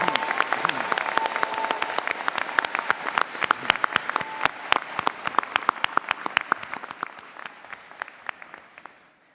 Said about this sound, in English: Please join me in a round of applause for all our graduates